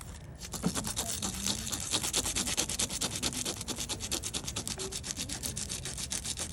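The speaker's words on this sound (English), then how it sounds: "we're going to keep sanding and sanding until I can't feel that little bump anymore" Sandpaper rubs in quick, steady back-and-forth strokes over a metal pinhole to wear down a burr, close up and continuous throughout.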